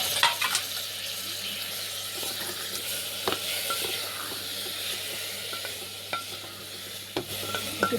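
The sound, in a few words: stirring vegetable rice while cooking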